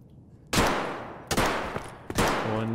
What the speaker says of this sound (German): Und die Schüsse sind immer sehr laut.